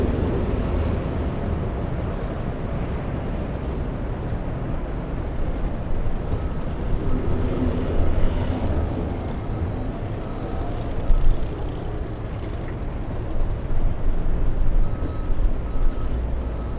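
United Airlines jet departing LAX for San Francisco, a steady broadband engine roar that holds loud and continuous throughout, swelling slightly in places, with no talk.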